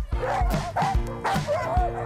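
A dog barks repeatedly during a canicross run, four sharp barks in a quick regular rhythm, close and loud.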